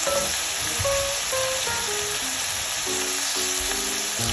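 Ground beef fries in a pan, giving a constant close sizzle, while quiet melodic background tones play through the whole stretch.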